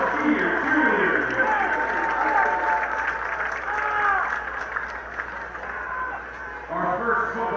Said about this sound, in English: Let's give a round of applause for your senior cheerleaders.